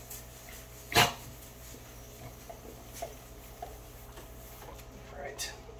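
One sharp dog bark rings out close by in a room, followed by faint scattered whimpers and small noises over a quiet background.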